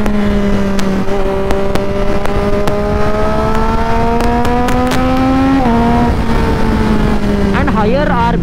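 A modified motorcycle climbs steadily in pitch as the throttle pulls it up toward the redline, a loud, close engine wail that dips with a gear change and rises again, with wind noise around it.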